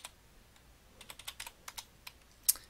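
Rapid bursts of keystrokes on a computer keyboard as values are typed into an Excel spreadsheet, close and clear with short pauses between runs of keys, no talking.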